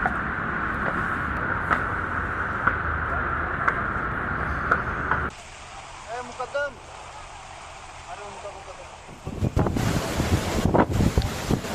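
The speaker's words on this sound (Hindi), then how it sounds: "देखिए किस तरह से तेज हवाओं के साथ अभी भी बारिश का दौर जारी है।" Strong storm wind with rain sweeps over Vasai, Mumbai, roaring and buffeting the microphone in loud, steady gusts that drop to a quieter lull midway before surging back just as hard.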